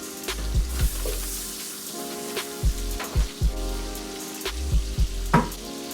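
Food sizzling in a hot pan for squash soup, continuous crackling fry with intermittent low thumping pops, close and steady.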